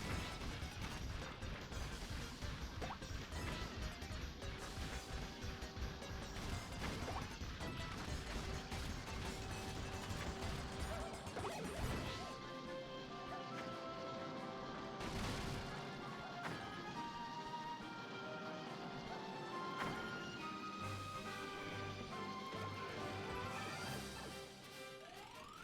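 Boxes smashed open in the Super Mario 3D World video game, giving a rapid string of loud crashing, thwacking breaks over busy, continuous game music, with no talking.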